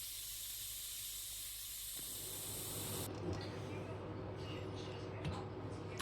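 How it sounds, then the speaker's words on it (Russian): Steady broadband steam hiss from the valves of a pressure cooker on the stove while shurpa cooks, loud and continuous at first, then shifting after about three seconds to a quieter, rougher hiss with faint bubbling and a few soft clicks. "как только пойдет пар из клапанов, засекаем 1 час"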